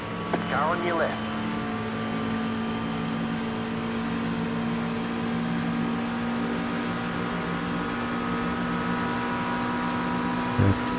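Race car engines in the iRacing sim, including at Bathurst, drone as a steady, sustained tone throughout, with a voice briefly heard early on.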